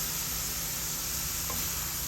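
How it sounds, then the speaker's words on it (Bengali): Potatoes fry in a wok, giving a loud, constant broadband sizzle that holds evenly throughout with no voices. "কড়াইতে যে আলু দিয়ে রাখছি আলু দিয়ে দিতেছি"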